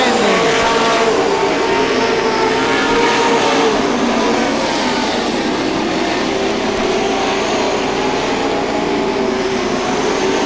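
Pro stock race cars roar around a night track at a 1999 championship heat, a dense, continuous engine drone from several cars at a distance, with an announcer talking over it.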